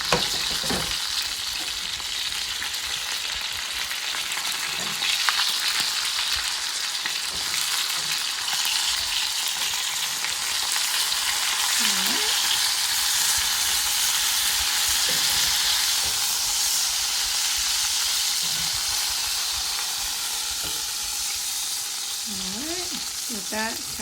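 Ribeye steak bites frying in a pan, a steady dense sizzle with crackle running throughout, loud and close with no talk over it.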